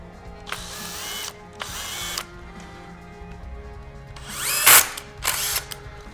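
An insert-pressing machine sets brass inserts into a polycarbonate ukulele part in a workshop. Four loud bursts of whirring, buzzing machine action come in pairs, separated by quieter mechanical hum, with a sharp clack near the end.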